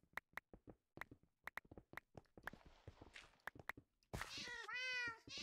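Footsteps tap in a quick, uneven rhythm in Minecraft, then a loud, wavering cat meow rises near the end.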